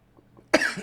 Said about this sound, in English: Is it because I'm coughing?